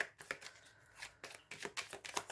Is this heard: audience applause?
no